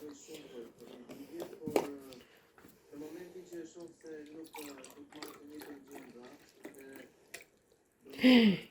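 Fruit juice pours and splashes from a carton in a liquid gurgle, running under steady talk, with a louder burst near the end.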